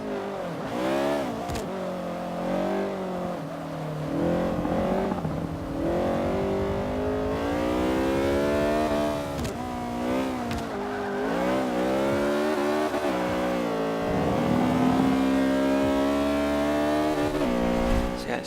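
A race car engine in Forza 5 screams and revs through gear changes, loud and continuous, with tire squeal and skidding under the rising and falling engine pitch.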